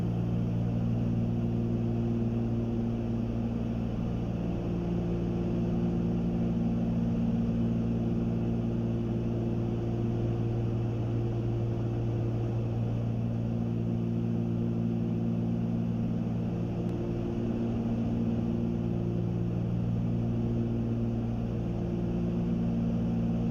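Steady, loud drone of a Cessna 310's twin piston engines in flight, heard from inside the cabin, with strong low harmonic hum held constant throughout and no talk.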